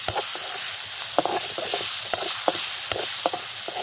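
Potato pieces fry with turmeric in a pan, giving a continuous loud sizzle punctuated by regular stirring scrapes and taps of a spoon.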